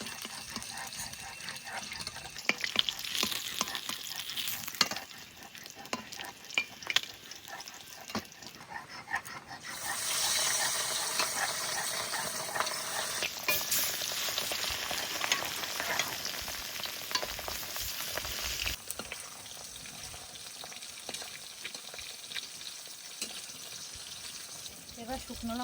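Chunks of river rohu fish frying in hot oil in a village kitchen, a continuous crackling sizzle that swells in the middle stretch and eases later, with occasional clinks of stirring.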